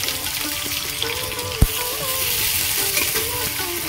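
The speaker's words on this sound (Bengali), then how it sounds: "তেল গরম হয়ে গেছে, রসুন দিয়ে দেবো। রসুন আমি ভালো করে ভেজে নিয়েছি। পেঁয়াজ কুচি দেবো" Garlic, onion and chilli frying in hot oil in a wok for a Bengali lote fish curry: a loud continuous close sizzle with a single sharp knock partway through, no talking.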